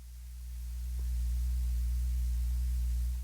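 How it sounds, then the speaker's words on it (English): Hum emulation from the Mr. LoFI AUv3 plugin on iOS, a steady low electrical mains-style drone with faint buzz and hiss that swells slightly then holds constant, alone without talking. "And you will hear also humming emulation as well."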